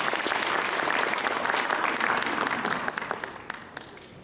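Audience applause welcoming a lecturer on point-of-care ultrasound at an internal medicine ultrasound session: loud, dense clapping from a full room that thins out after about three seconds into a few scattered final claps.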